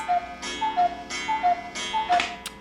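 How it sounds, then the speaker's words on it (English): A cuckoo clock ticks steadily and close by indoors, its crisp, regular tick-tock beats repeating alone with no talk over them. "that cuckoo clock manages to make its way into every one of these videos"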